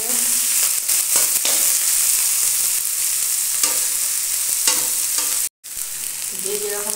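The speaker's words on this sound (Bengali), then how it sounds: "সব ভেজিটেবলগুলো ভেজে নেবো একসঙ্গে।" Mixed vegetables frying together in a pan give a steady, close sizzle with occasional stirring scrapes throughout, a brief silent gap near the end, then sizzling resumes; no one speaks.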